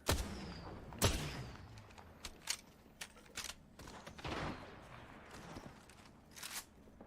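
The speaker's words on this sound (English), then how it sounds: "See some of these triple take shots coming out from Booger." Triple Take rifle fire in the video game Apex Legends during a competitive match, several sharp separate shots spaced unevenly among other game effects, thumps and faint commentary.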